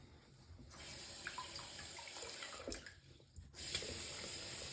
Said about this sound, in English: I'm gonna rinse my stone real quick.